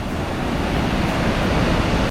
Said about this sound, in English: This is a waterfall that I was expecting to see at Josephine Falls, so this is awesome.